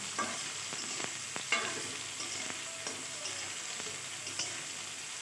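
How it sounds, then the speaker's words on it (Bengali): Cut potatoes fry with onion in a pan, a steady close sizzle punctuated by regular clinking stirs of a spatula, with no talking. "আলুটা এখন দু থেকে তিন মিনিট আমি পেঁয়াজের সাথে ভেজে নেব"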